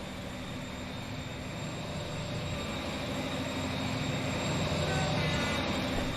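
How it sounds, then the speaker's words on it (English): Train whistle from the Transport Fever 2 game, a steady sustained tone held over continuous rumbling rail and engine noise for several seconds, fairly loud and unbroken. "The whistle went off as it passed that waypoint."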